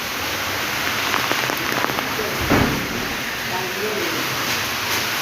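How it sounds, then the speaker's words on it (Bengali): Heavy cyclone rain pours down in Laksam, Comilla as a dense, loud, unbroken hiss of drops hammering surfaces, with a brief rumbling gust midway and the downpour steady throughout. "এই দেখেন বৃষ্টির তীব্রতাটা কতটা ভয়ঙ্কর।"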